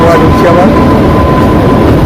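Loud, steady rolling rumble of the Kalka–Shimla toy train climbing toward Shimla, with a thin constant whine over the low drone, recorded from inside the carriage.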